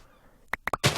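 Chickens in a video game give a few short clucks in quick succession, close and fairly loud, followed by a burst of noisier sound.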